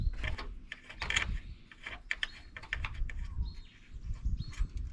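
A screw clamp being tightened by hand on a caravan annex, giving close, uneven ratcheting clicks and rattling metal mechanism noises in quick bursts, with a low rumble underneath and no speech.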